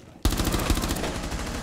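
Rapid automatic gunfire in Rainbow Six Siege begins abruptly after a brief quiet moment and continues as a loud, steady burst of evenly spaced shots.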